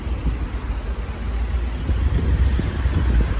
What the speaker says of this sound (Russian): У нас сегодня такой ветер